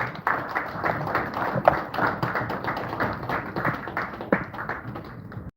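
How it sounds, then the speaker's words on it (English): Audience applause for the president at an annual business luncheon of engineers: steady, dense clapping from a crowd that keeps going for several seconds at moderate loudness, then tapers off near the end. "Please, a round of applause to Mr. President."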